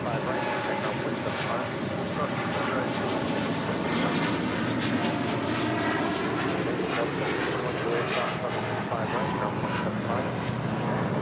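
A jet taking off from runway 25 right at LAX gives a steady, loud engine roar throughout, while radio talk from air traffic control runs over it.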